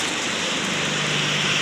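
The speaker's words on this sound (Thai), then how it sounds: "ฝนตกพี่น้องเอ้ย" Heavy rain pouring down steadily around a house in a Thai village, a dense, loud, continuous hiss with no breaks.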